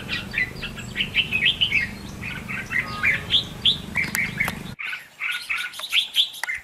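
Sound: red-whiskered bulbul singing

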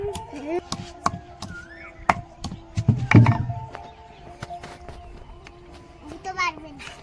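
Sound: pounding/crushing green coconut flesh

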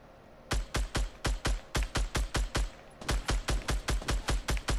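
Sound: gunfire in a video game

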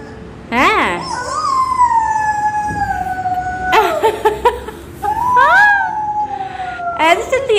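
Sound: toy ambulance siren

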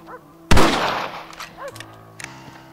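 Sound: rifle shots in Red Dead Redemption video game

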